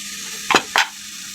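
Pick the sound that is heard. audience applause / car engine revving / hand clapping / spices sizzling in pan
spices sizzling in pan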